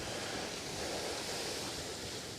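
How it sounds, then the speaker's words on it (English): Strong wind sweeps across an outdoor vegetable garden, a constant rushing roar buffeting the microphone without any pause. "It's too windy."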